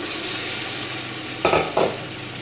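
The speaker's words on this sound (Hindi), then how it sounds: "इसको अच्छी तरह से भून लूँगी।" Boiled chickpeas stir-fried in a pan with red chilli and garam masala for chana pulao: a steady low sizzle runs throughout, broken by two quick scraping stirs near the end.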